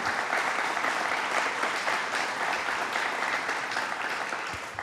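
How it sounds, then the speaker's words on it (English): An audience in a Plattsburgh theatre applauds the mayor at a governor's announcement, a full, continuous round of clapping that holds steady and fades slightly at the end. "Let's give him a round of applause and thank him."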